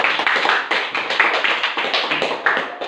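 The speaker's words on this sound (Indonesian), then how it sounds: "Kita kasih tepuk tangan untuk diri kita." Group applause from a classroom of teachers or participants, many hands clapping steadily and densely for about three seconds, loud and close with no voices.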